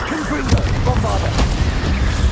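Spell explosions from Confringo and Bombarda in Hogwarts Legacy, a few dull booms and bursts over a constant game soundscape, with a voice calling out between blasts.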